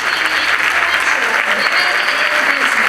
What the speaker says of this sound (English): Let's give one more round of applause for our 2018